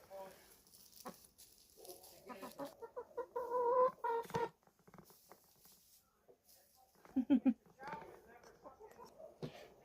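A hen clucking inside a chicken coop in winter, a series of soft close clucks and a brief drawn-out cackle, with scratching and rustling, while a person talks intermittently.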